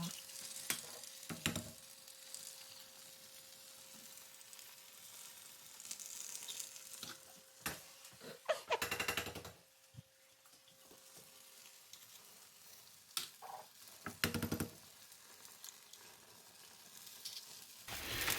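Egg whites and cracked eggs fry in a pan with a continuous soft sizzle and crackle, punctuated by a few louder clatters and bumps of handling, quiet and close with no talking.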